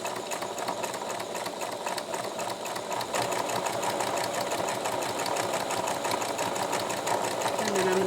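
A sewing machine runs steadily, stitching a formable metal nose piece into a fabric face mask, with a fast, even mechanical whir that grows slightly louder partway through.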